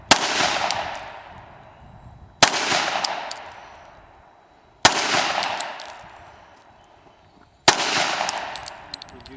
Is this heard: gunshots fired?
yes